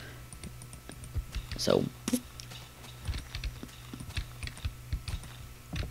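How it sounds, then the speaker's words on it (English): An old computer keyboard's space bar and keys click and clack in scattered bursts, close and fairly quiet, while a person speaks briefly over it. "if you hear some really weird noise, like this noise, it's my space bar."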